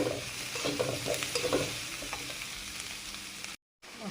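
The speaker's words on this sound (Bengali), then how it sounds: "মশলাটা ভালো করে ভেজে নেব।" Ground chili powder, turmeric and salt fry in a pan with a soft continuous sizzle and light stirring scrapes, heard close with no talk and a brief gap near the end.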